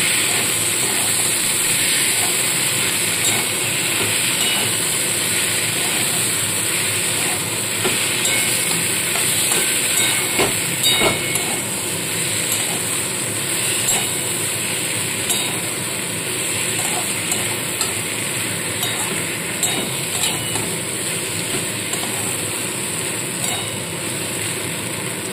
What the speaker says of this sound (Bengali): দিয়ে এবার খুব ভালো করে মশলার সাথে আলু টমেটোটাকে কষিয়ে নেব।